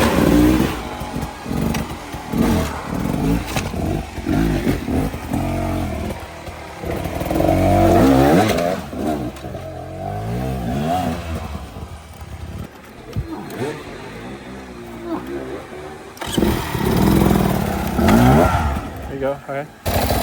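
Dirt bike engines at a hard enduro race in Moab, revving and clattering over rough ground, loud and close with surges and drops in throttle, while a voice talks over parts of it.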